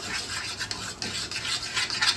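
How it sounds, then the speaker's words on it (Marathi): Cooked lentil dal being stirred inside a pressure cooker, a close, wet scraping and rubbing of a spoon against the metal pot in uneven strokes, with no talking. "आता जी डाळ आपण मिक्स करून घेऊयात"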